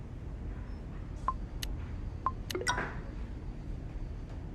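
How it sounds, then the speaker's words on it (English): A safety alarm pad on a wheelchair gives a few short, faint electronic chirps, spaced about a second apart, over a steady room hiss in a care setting. "the chirp sound you heard was an alarm and pad that's on your chair for your safety"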